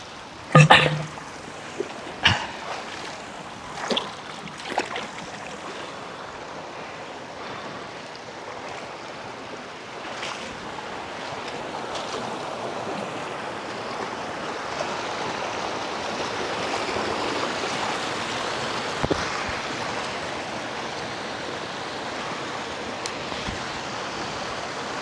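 A hillside river rushes over large mossy rocks on the trail to a waterfall in Alfonso, Cavite, a steady broadband roar close by, with a few sharp knocks and footsteps early on.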